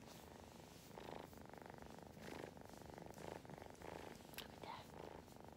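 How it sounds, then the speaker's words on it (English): Steady, rhythmic cat purring close up, rising and falling in soft pulses about once a second, with faint background hiss. "You hear the purring?"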